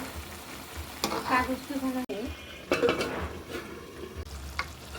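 A hilsa fish and water lily curry is stirred in a pan over heat. A steady sizzle runs underneath, with scraping, stirring strokes in bursts and a quiet pause near the middle.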